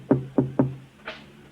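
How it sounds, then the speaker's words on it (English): Three sharp knocks on a door land in quick succession, followed by a softer fourth thump, close and distinct in a quiet room with no voices. "And then there was a knock on the door."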